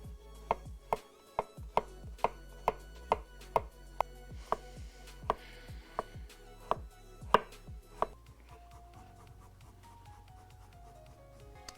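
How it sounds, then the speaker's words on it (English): A knife chopping an onion on a cutting board, about a dozen crisp, evenly spaced strikes followed by quieter scraping, close and alone without talk. "Let's chop up our beautiful onion."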